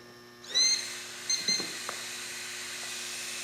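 A Trend Airshield Pro blower motor, battery powered, switches on with a sharp rising whine and then runs as a steady high-pitched hum with a few small clicks and handling knocks near the start.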